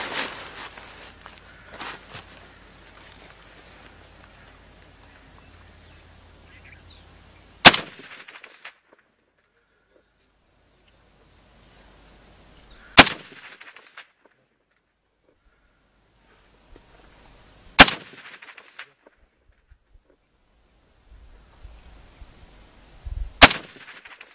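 Four sharp single gunshots ring out at a firing range from a gun set to semi-automatic, spaced several seconds apart, loud and close with brief echoing tails over quiet handling noise.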